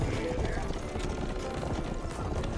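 Horse hooves clop steadily in the western game Rustler, a busy rhythmic patter of hoofbeats mixed with other game sounds and a voice talking over them.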